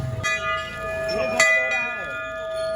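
A temple bell struck at the entrance of Golju temple near Nainital rings out with a bright metallic clang and a long shimmering decay, then a second strike follows, with background voices and bustle around it.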